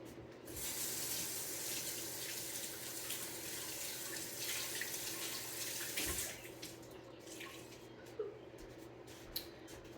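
Tap water runs steadily into a sink to soak a towel in a home kitchen, a continuous splashing hiss for about six seconds, then tapering to drips and wet squishing sounds.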